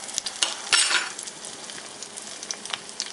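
A beef burger patty for a homemade Big Mac frying in a pan, giving a close, bright sizzle with a few spatula taps, strongest early on.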